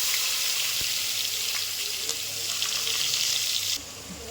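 Chopped onion hits hot oil tempered with cumin and asafoetida, producing a loud, continuous close-up sizzle that drops off abruptly near the end.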